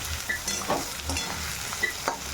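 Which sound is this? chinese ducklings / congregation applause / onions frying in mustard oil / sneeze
onions frying in mustard oil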